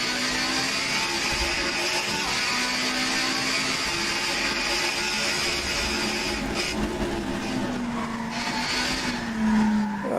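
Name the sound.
truck braking and tires skidding in American Truck Simulator video game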